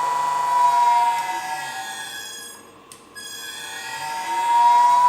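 A three-phase AC motor driven by a Panasonic VF inverter runs with a steady high-pitched tonal whine that dips briefly in the middle and then rises again, loud and close with no voices.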